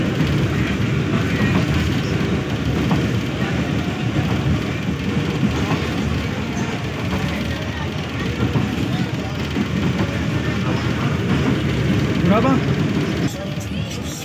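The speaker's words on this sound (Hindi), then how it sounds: "Brakes have been applied by the loco pilot. It means we are approaching Budh." A passenger train on the line from Multan to Sanawan, slowing under braking on its approach to Budh station, gives off a steady loud rumble with rail clatter and screeching, heard from on board.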